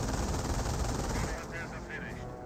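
Sustained gunfire rakes a medic station in a Company of Heroes match, a dense continuous rattle of machine-gun bursts that stays loud and close before easing slightly near the end, with no speech over it.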